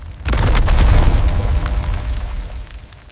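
Mark 72 solid rocket motor launching from a warship's vertical launch system, a loud, close, deep roaring boom that swells quickly and rumbles on before slowly fading, with no talk.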